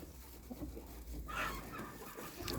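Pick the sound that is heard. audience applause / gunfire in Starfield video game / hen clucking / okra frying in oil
hen clucking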